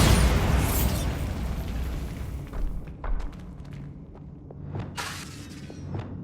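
Bombarda blasting spell in Hogwarts Legacy, a loud roaring explosion that booms at the start and fades, followed by scattered debris cracks and smaller pops, no talking.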